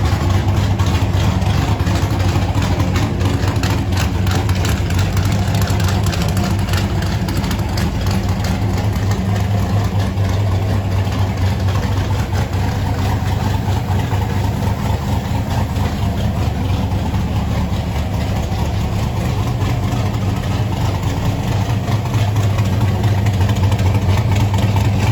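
Chevrolet V8 in a 1972 MGB roadster street machine idling, a loud steady low rumble that holds unchanged throughout with no voices.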